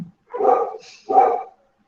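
Dogs at home bark in two short, separate bursts about a second apart, close and fairly loud, with quiet between.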